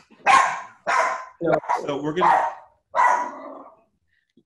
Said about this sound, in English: We've got dogs barking in the background.